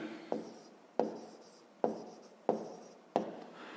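A pen writes out a math solution on paper, five close scratchy strokes, each starting with a sharp tap and trailing off, spaced at an even pace; quiet, with no talk.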